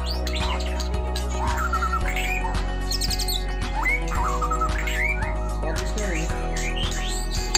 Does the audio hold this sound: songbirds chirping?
yes